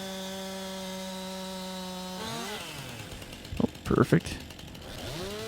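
A chainsaw in Farming Simulator 19 trims a small tree, its steady engine drone bending and rising as it bites into wood in a couple of short cutting bursts, with someone speaking briefly over it.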